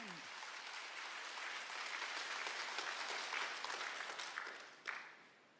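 A church congregation at a Friday summer revival service breaks into hearty clapping that swells, holds for several seconds, then tapers off, ending with a single sharp knock.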